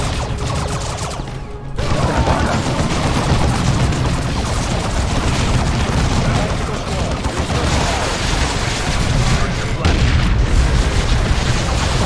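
Bombing explosions in the Warhammer 40k game Dawn of War II, with dense, loud, overlapping booms and bursts of battle noise that keep going without a break, under brief voices.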